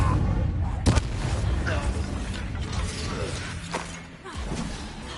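Fire spell Incendio cast in the game Hogwarts Legacy: a sharp burst at the start, then crackling, rumbling blasts and mechanical clanks that fade toward the end, with game voices mixed underneath.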